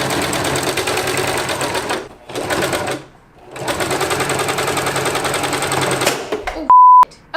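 Sewing machine stitching thick T-shirt quilt fabric, a loud rapid mechanical whir running in three bursts separated by short pauses, followed by a brief electronic beep at the end.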